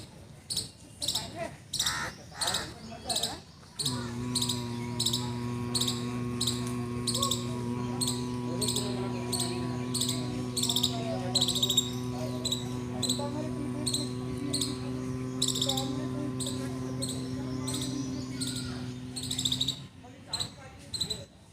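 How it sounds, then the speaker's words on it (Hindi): Bhramari pranayama humming breath, a steady, sustained buzzing hum like a bumblebee held for about sixteen seconds during yoga for depression and anxiety, set against a background of clicking, chirping insect-like noise. "भौरे की तरह गुंजन करना है।"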